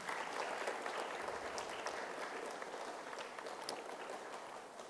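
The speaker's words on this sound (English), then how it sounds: "Let's give them a round of applause" Students and guests at a county elementary spelling bee applaud steadily for about five seconds, a soft, distant wash of clapping that fades slightly toward the end, with no talking.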